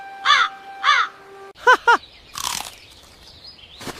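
Four harsh crow caws in two pairs, loud and close, followed by a crunching rustle and a faint scratchy noise.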